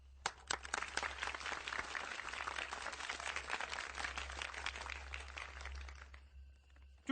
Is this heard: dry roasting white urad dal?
no